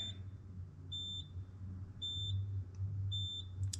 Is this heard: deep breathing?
no